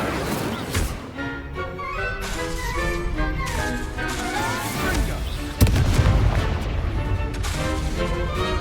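Incendio fire spells are cast in Hogwarts Legacy, with bursts of crackling, booming impact over busy game sound and music, including a sharp loud burst partway through.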